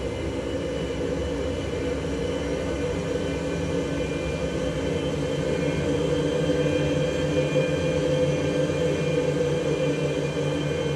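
Boeing 737 engines spool up inside a full flight simulator, a steady broadband roar and hum that holds level and builds slightly in loudness, with no talk.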